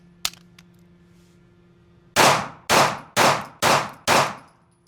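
Five evenly spaced Sig pistol shots fired offhand at an outdoor range, each a loud, close crack with a short decaying ring, following a faint click and a low steady hum.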